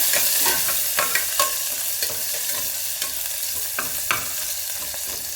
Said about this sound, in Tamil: நல்லா வெங்காயம் நல்லா வதக்கிட்டுருக்காங்க.